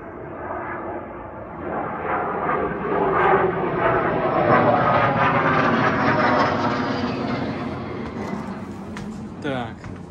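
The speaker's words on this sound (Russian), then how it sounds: "А тут у нас самолеты летают" Airplanes pass overhead near a country garden plot, a broad, steady roar swelling and fading over about ten seconds, with no one talking.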